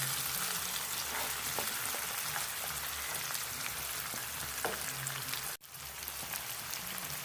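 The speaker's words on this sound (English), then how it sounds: "Let's allow this to fry for about a minute." Ingredients for Ghanaian okra soup sizzle and fry in a pan, a steady dense crackling hiss throughout with one brief dropout near the end and no talk.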